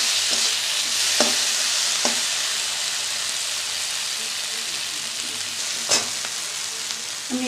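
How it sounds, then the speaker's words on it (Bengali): A spiced masala for egg curry sizzles and fries in oil with a constant hissing crackle. A spoon scrapes and stirs it with a few sharp knocks against the pan. "এখন মশলাটা কিন্তু ভালোভাবে কষানো হয়ে গেছে আর মশলার থেকে তেল ছেড়ে দিয়েছে"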